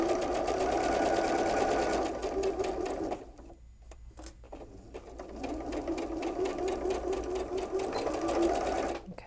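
Sewing machine stitching a curved seam on quilting fabric for a wave block, running steadily in two bursts with a brief pause to readjust the fabric between them, close and alone.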